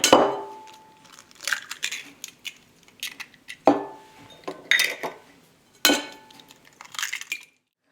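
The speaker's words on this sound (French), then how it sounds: "On commence par casser les œufs" Eggs cracked into a bowl for a carambar cake batter, a series of sharp knocks and clinks against the bowl and shells in uneven bursts, close and without speech.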